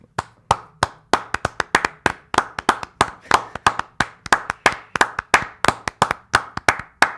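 One person claps hands loudly and close up in a podcast studio, a steady run of crisp, evenly spaced single claps repeating about three times a second with no voices over them.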